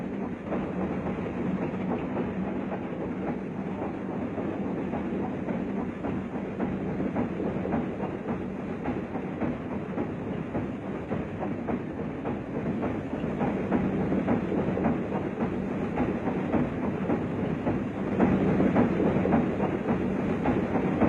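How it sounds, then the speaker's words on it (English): Massive DD-52 locomotive running on an Indonesian railway line near a wayside station, producing a steady, loud rolling rumble with continuous wheel clatter throughout. "As the mammoth DD-52 arrived at the wayside station of Neres"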